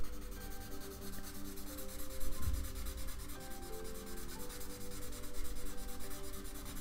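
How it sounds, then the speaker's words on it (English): Pastel pencil drawing being rubbed smooth on paper, a close, continuous soft scratchy rubbing with a steady back-and-forth texture, alone without talk. "And I'm just gonna keep rubbing it until it's nice and smooth."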